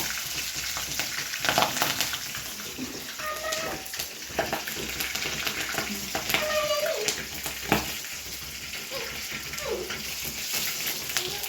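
Curry leaves and green chillies fry in hot oil for a Tamil fish curry, giving a soft, crackling sizzle with scattered pops and stirring clatter, faint and close, with quiet voices now and then.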